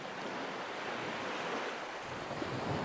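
Continuous ocean surf rolling in a broad, steady wash of noise with wind gusting across the microphone, no voices, an even unbroken roar throughout.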